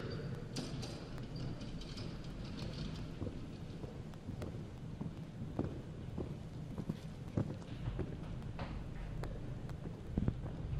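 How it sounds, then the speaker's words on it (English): Horse hooves thud on the ground during a show jumping round in a steady, muffled gait against a broad, noisy outdoor background, fairly faint, with no clear talk. "coming towards that first fence now is Eve Stavely. Eve Stavely, riding Shadow the Fourth"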